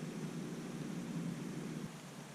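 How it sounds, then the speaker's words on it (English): The Livingstone River flows nearby past a riverside campsite, a steady, even hiss of rushing water with no breaks, soft and continuous like white noise. "You can just hear that white noise. The river is right here, not too far away."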